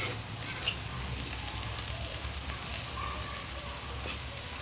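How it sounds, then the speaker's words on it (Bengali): Spices fry in hot oil in a pan for a bhuna-style prawn curry, giving a soft continuous sizzle with light stirring scrapes, a little louder at the start. "এই যে আমার সুন্দর করে ভাজা হয়ে গেছে"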